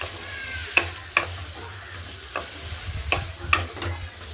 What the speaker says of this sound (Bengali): ভালো করে ক্যাপসিকামটা আলুর সাথে ভালো করে আলুগুলো কষিয়ে নেবেন।